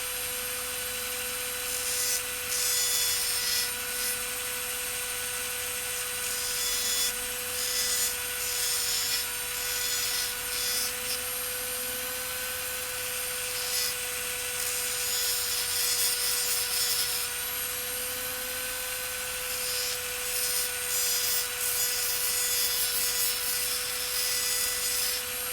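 A Dremel rotary tool with a burr bit whines at a constant high pitch while grinding steadily, with its rasping texture coming and going in short bursts throughout.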